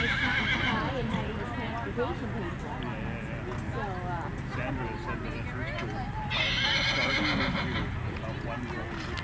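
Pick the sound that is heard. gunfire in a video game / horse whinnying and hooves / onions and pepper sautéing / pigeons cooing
horse whinnying and hooves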